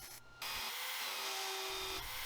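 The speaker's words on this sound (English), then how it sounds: "Drilling out the temperature gauge ports" A power drill bores temperature gauge ports through the steel front panel of an insulated BBQ pit, giving a steady, close whine that runs nearly the whole clip after a short pause near the start.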